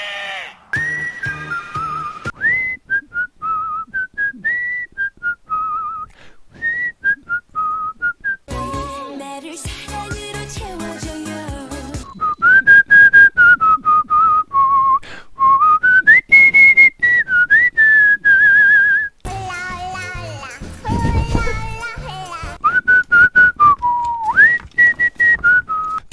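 A person whistles a lively melodic tune during a PUBG game mission. The whistling comes in clear, close, wavering phrases separated by short pauses, with occasional bursts of louder background noise.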